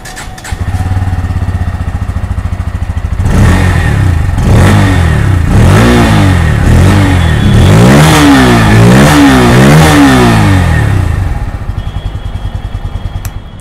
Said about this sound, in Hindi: और वहीं आप N160 का एग्जॉस्ट साउंड को सुने तो ये भी मैं आपको एक बार सुना देता हूँ।